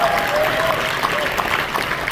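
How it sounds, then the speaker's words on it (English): A convention audience at a Rotary zone institute in San Diego applauds after a keynote speech, a dense, steady clapping that fills the room at close range and holds evenly throughout. "Let's give her another round of applause"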